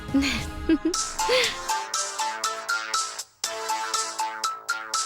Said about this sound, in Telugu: కాంచన కొడుకు ఫోన్ చేస్తున్నాడు.